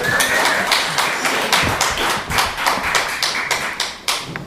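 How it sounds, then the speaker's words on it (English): An audience at a socialist festival claps in scattered, uneven bursts, with individual sharp claps audible rather than dense applause. The clapping comes close and fairly loud, with brief dips between bursts. "Claps for socialism at a socialist festival."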